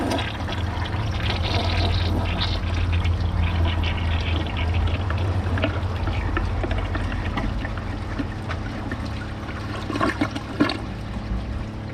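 Kohler toilet flushing away a glove, two small bottles and a bottle cap: a loud sustained rush and gurgle of water, then a refilling trickle that fades toward the end.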